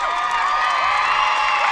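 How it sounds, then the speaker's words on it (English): A large arena crowd at a gymnastics competition roars and cheers in a continuous, dense wash of voices that holds steady from start to finish. "you can already hear the crowd"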